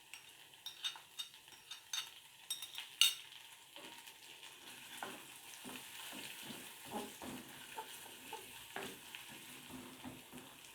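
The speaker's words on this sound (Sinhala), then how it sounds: "කන්වන් පාට වෙන තුරු ස්වල්ප වේලාවක් වැඩ ගන්න" Garlic, ginger and curry leaves fry gently in a pan for Sri Lankan chicken roti, a faint, soft sizzle broken by light, irregular stirring scrapes and taps.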